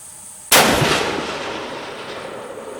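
A mountain rifle fires a single sharp, loud shot at a 100-yard target, followed by a long, rolling echo that fades slowly.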